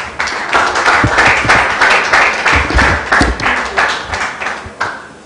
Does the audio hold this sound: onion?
no